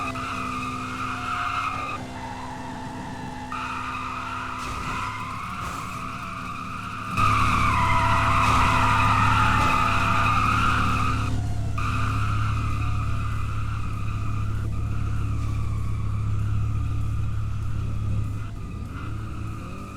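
A car drifts at a car meet in southwest Florida, tires squealing and skidding in long sustained screeches while the engine roars, growing louder around the midpoint and continuing for twenty seconds with no talking.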